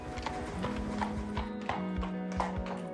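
A horse walks at a therapy riding session, hooves clip-clopping in a steady rhythm close by, with a steady hum and some background activity running underneath.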